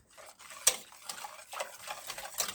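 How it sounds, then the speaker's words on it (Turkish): A spoon stirs cornstarch into an orange mixture in a bowl, scraping and clinking unevenly with a sharper knock partway through and another near the end, all near and fairly quiet with no talk. "Şimdi arkadaşlar bunları iyice karıştıralım."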